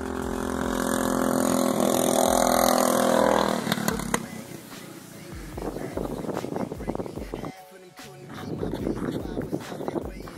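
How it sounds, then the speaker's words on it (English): A nitro racing lawn mower engine runs loud and steady at a backyard race, then the roar drops away and sputters into uneven, rougher engine bursts with a brief near-silent gap. "Nitro Jegs lawnmower racing. Go!"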